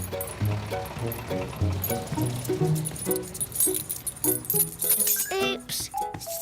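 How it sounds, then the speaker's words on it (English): Cartoon sound effect of a child dropping a bunch of keys, bright metallic jingles and clinks mixed with playful musical notes, with voices speaking around it. "But Humf was very careful not to drop the keys anymore."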